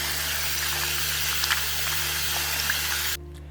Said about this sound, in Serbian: Limun je odstojao u soda bikarboni i opraću ga pod mlazom vode.